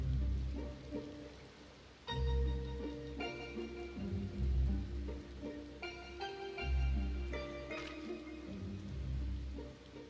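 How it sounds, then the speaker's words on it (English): Steady rain pours in the Final Fantasy XIV Eden raid, a dense wash of droplets with no break, mixed with layered game music tones and swelling chords. "And it's raining now."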